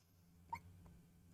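A single sharp human hiccup, close and sudden, rises out of a quiet room with faint breathing around it.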